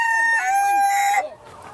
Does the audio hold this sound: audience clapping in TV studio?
no